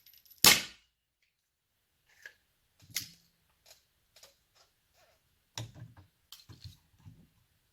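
A suppressed .22LR pistol fires one sharp, loud crack near the start, followed by a few faint, scattered mechanical clicks and taps.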